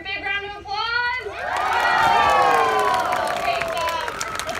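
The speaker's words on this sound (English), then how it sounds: "give her a big round of applause" Audience at a safari park show cheering loudly with children shouting, the noise swelling to a peak and then easing, with only a little clapping mixed in.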